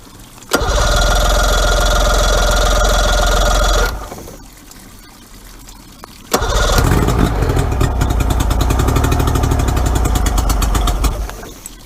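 A Mercury outboard engine runs with the choke on, firing up with a loud steady roar for a few seconds, dropping away, then restarting and running loud and rough until the end.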